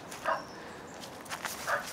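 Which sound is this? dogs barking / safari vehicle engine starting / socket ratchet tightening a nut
dogs barking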